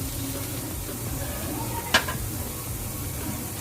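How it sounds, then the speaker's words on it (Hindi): Khoya stirred in a pan with grated coconut, almonds, cashews, seeds and raisins, giving a steady soft scraping with one sharp clink of the spoon against the pan partway through. "इन सबको हम मिक्स कर लेंगे"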